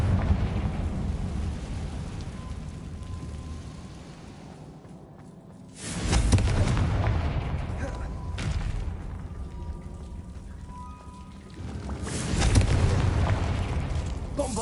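Confringo spell blasts in the video game Hogwarts Legacy: heavy booming explosions hit at intervals, each sending a deep rumble that fades before the next, set against a low, echoing ambience.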